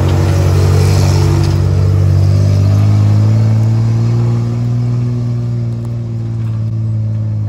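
A truck engine revs hard as it climbs a hill, a loud, steady low rumble holding close throughout and easing slightly toward the end, with no talking.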